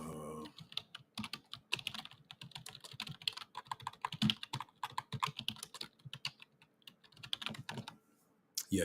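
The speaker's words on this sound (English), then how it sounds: "y'all, I can type" Rapid clatter of keys on a computer keyboard, close and steady with bursts and brief pauses, continuing for several seconds with no talk over it.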